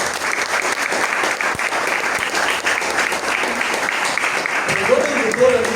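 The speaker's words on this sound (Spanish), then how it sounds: "Bueno, un aplauso." Steady, loud applause from an audience at a literary gathering goes on throughout, with a few voices rising near the end.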